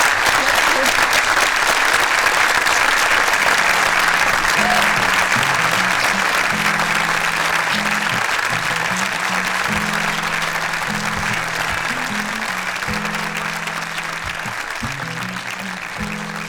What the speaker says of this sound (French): je pense qu'on peut applaudir la belle, la grande Alice Zénithia